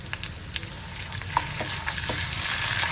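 Curry leaves and ginger-garlic paste sizzling in hot oil for a ridge gourd dish, a steady crackling hiss with scattered sharp pops and spatters, close and fairly quiet, no voices.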